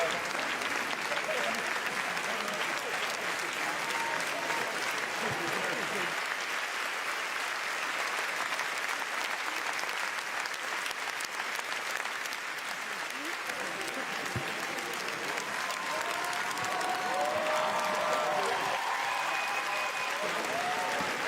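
A large audience at the 2018 Cannes Film Festival premiere of Capharnaüm gives a long ovation, a dense, steady roar of clapping that barely changes over twenty seconds, with occasional faint cheers mixed in.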